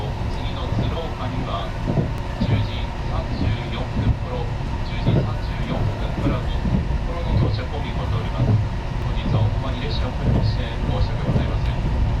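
Steady rumble and rhythmic clatter of a Japanese train picking up speed near Tsuruoka Station, heard from inside, with a voice talking over it throughout.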